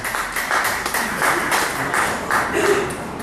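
A church congregation applauding, a crowd of hands clapping in a steady wash with some voices mixed in beneath it.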